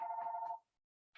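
An indoor telephone gives a single steady electronic ring that stops abruptly; a moment of silence follows, then a short new burst starts.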